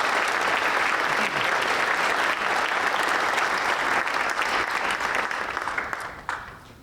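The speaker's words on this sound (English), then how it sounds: "Can we give them a round of applause?" A lecture audience gives a sustained round of applause, a broad, even wash of many hands clapping that holds steady for about six seconds before tapering off at the end.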